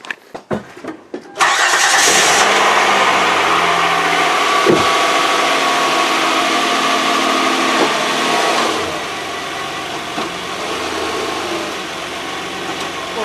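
A Kia Sorento engine cranks and fires after a few clicks, then settles into a steady, loud idle as the SUV backs up a short way, the drone easing slightly toward the end.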